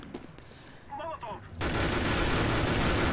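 Dense, loud gunfire bursts out after a brief quiet stretch in the shooter game Overwatch, continuous and close, with a muffled voice early on.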